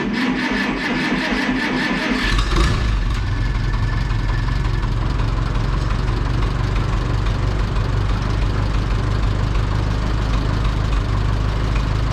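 An Oliver Super tractor engine with a sticky carburetor cranks and catches after about two seconds, then settles into a loud, steady, rumbling idle close by for the rest of the time, with no talking.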